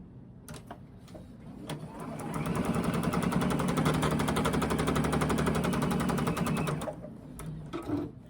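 A sewing machine stitches quilt squares together in a steady, fast mechanical whir that runs for several seconds. Short clicks come before and after as the fabric is positioned, and the sound is close and fairly loud.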